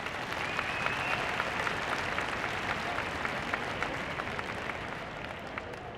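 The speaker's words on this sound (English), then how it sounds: "Give her a round of applause, folks." Audience at the Crufts dog show applauding a terrier after her run, a broad, steady roar of clapping from a large crowd that eases slightly toward the end.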